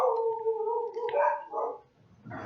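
Dogs howl in a long, wavering, tonal cry that bends upward, followed by shorter yips and a rough bark near the end, close and fairly loud, with no talk.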